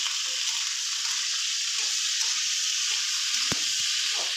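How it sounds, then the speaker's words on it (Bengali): Okra fries in hot oil with a loud, even, continuous sizzle that holds steady throughout, broken only by a single faint knock near the end. "এবার আমি ভেন্ডিটা ভেজে নেব।"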